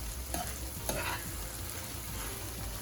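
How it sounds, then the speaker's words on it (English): Steady sizzling and crackling of okra frying in a pan, with a few utensil scrapes and stirs near the start; no voices. "keep frying and try to get some of that slime out of there"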